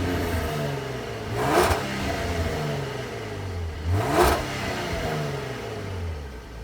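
Jaguar F-Type V6 S revved with its exhaust valve closed, two quick throttle blips rising and falling over a steady idle, recorded near the rear of the car without talking.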